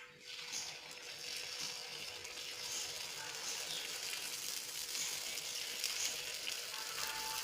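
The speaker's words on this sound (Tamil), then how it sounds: "இப்போ நம்ம இன்றைக்கி பணியாரம் தான் ஊற்ற போகிறோம்" Paniyaram batter sizzling steadily in a hot pan, a continuous bright frying hiss with faint clinking throughout and no talk.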